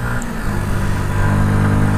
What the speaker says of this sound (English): Look, it does have power and acceleration begins at lower revs than the RC125.